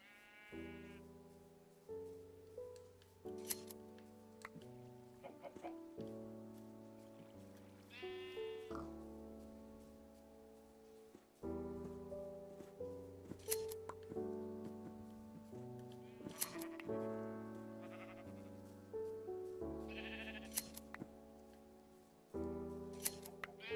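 Minecraft sheep bleat several times over steady background music, short wavering cries spaced a few seconds apart, moderately clear.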